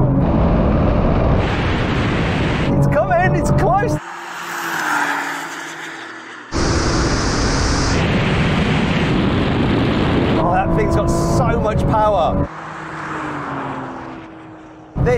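A Honda NSX and a Porsche 911 drag racing, their engines roaring loud in bursts as they pass. Wind noise and rumble alternate with quieter gaps, and short electronic beeps cut in.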